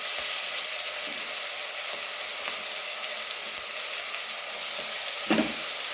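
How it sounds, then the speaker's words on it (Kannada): Fenugreek leaves frying in oil with onions for a village-style keema curry, a steady close sizzle running throughout with occasional stirring scrapes and a clack near the end. "ಮೆಂತ್ಯ ಸೊಪ್ಪನ್ನ ಸ್ವಲ್ಪ ಎಣ್ಣೆಲಿ ಫ್ರೈ ಮಾಡ್ಕೊಳ್ಳೋಣ."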